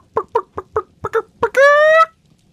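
A voice imitating a chicken: six short clucks in an even rhythm, then a drawn-out rising squawk, loud and close against silence.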